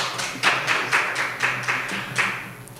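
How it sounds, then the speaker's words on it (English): Sparse clapping from a small audience at the GUADEC 2024 conference after a presentation, a handful of separate claps falling in a loose, uneven rhythm, fairly quiet and without cheering. "An applause."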